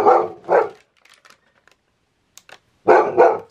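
A pet dog barks in pairs, two sharp loud woofs, a quiet gap with faint clicks, then two more barks, close by indoors.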